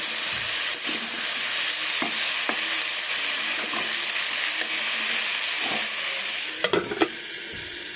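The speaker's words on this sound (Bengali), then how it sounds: "লবণ ও হলুদ গুঁড়ো দিয়েছি, এবার ভালোভাবে নেড়ে নেব।" Fish coated with salt and turmeric fries with a steady loud sizzle and hiss, while a utensil stirs and taps the pan every second or so, close up.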